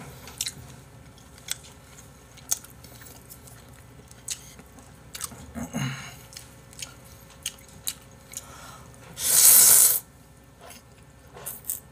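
Close, soft chewing of steak and aglio olio pasta, with wet clicks and squishes in an uneven rhythm, and one loud burst of noise near the end.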